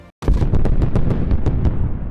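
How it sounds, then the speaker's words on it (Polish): Dynamite bombs go off in the Worldbox sandbox game, one sharp blast followed by a dense rumbling run of repeated loud booms and crackles that carries on without pause. "Chińczycy nie spodziewali się, że wybuch będzie tak mocny, że zniszczy połowę kontynentu"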